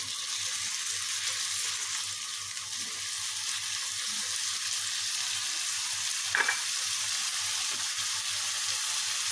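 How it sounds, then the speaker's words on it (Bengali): Lemon-marinated chicken fries steadily in a pan for chicken fried rice, giving a continuous close sizzle and hiss with a brief stir or clatter partway through and no talk. "এখন এটাকে ভাজবো, আমি 3-4 মিনিট ভেজে নিব চিকেনটাকে।"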